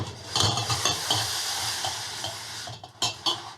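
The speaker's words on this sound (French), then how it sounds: "gardez votre lait en mouvement en le remuant constamment" Homemade soy milk being stirred constantly in a pot as it boils, a steady hiss and bubbling with scraping spoon strokes and a few sharper clinks near the end, close and alone.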